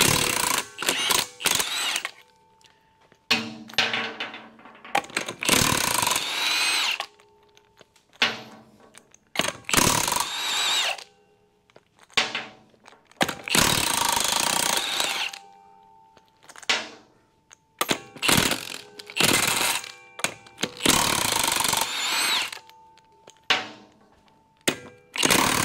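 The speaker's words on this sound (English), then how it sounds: "I've got the trusty old Milwaukee fuel," Bursts of a Milwaukee Fuel cordless impact wrench hammering lug nuts off a wheel of a cheap Nissan Xterra, several loud rattling runs separated by short pauses and clanks.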